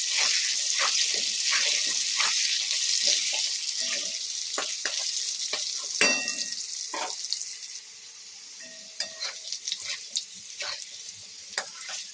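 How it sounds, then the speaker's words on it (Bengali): Sliced potatoes frying in hot oil in a kitchen, cooked as part of a katla fish broth; a steady sizzling hiss for the first half, then a quieter stretch with occasional utensil clinks and scrapes. "তোমরা তো দেখলে বন্ধুরা আলুটাকে ভেজে আমি তুলে নিলাম সুন্দর করে"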